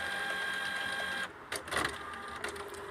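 An inkjet printer whirs steadily, then its freshly cleaned feed rollers grab a sheet of paper with a series of mechanical clicks and clunks, close and clear with no talking.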